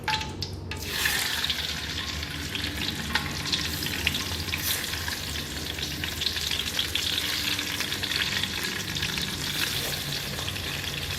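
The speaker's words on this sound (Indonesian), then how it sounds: "setelah minyak mulai panas, langsung kita masukkan tahunya satu per satu" Tofu pieces fry in hot oil with a dense, continuous close sizzle and crackle throughout, steady and loud, with no voices.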